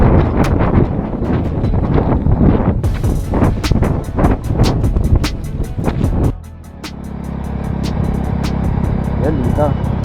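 Strong wind buffets the microphone with a steady roar and rumble on a motorcycle ride along a highway, over a passing engine and road noise; no clear talk.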